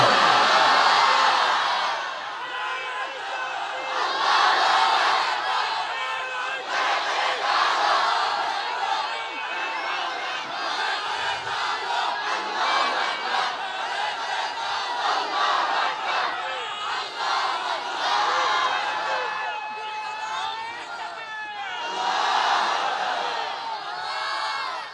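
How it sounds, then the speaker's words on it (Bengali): A large crowd at an Islamic waz gathering in Sirajganj loudly shouts the takbir in repeated waves, near and energetic, with overlapping voices rising and falling throughout. "আল্লাহকে একবার হাত উঁচা করে তাকবীর ধ্বনি দিয়ে দেখাই দাও"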